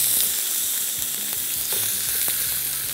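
An egg fries in a pan while chicken steak and vegetables are being cooked, giving a steady close sizzle with faint crackles throughout and no talking.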